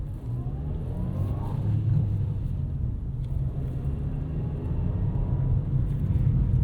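Engine of a 2024 Nissan Versa S with a 5-speed manual gearbox droning steadily in the cabin while driving, a low continuous rumble with slight rises in pitch, no talking.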